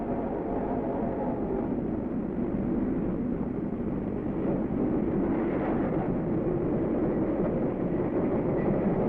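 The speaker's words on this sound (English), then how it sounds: "Can't you hear the train coming?" A train approaching in a 1934 adventure serial gives a continuous, dense rumble and roar that builds slightly in loudness, heard alone without voices.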